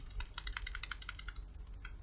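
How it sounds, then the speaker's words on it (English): Rapid clicking held right up against a microphone during a Halo Wars 2 Blitz session, a close, crisp run of about a dozen sharp, uneven clicks over two seconds, with no talking. "That doesn't sound like you're clicking anymore. I am actually."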